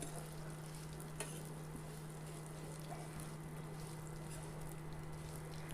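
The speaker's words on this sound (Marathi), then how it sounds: "शेवयाचा कलर लाल होईपर्यंत आपल्याला परतायचा आहे." Vermicelli (shevai) for kheer is roasted in a pan, giving a faint, steady sizzle and stir over a constant low electrical hum, with no voices.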